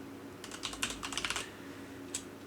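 Typing on a computer keyboard while entering code for a POV-Ray 3D model, a quick run of soft clicking keystrokes in the middle followed by a single later tap, fairly faint and close with no talking.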